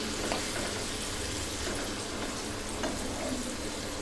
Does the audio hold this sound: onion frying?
yes